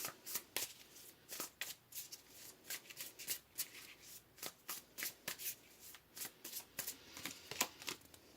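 Tarot cards shuffled by hand in a quiet room, a run of soft, crisp riffling bursts repeating in a quick, uneven rhythm, close and fairly faint.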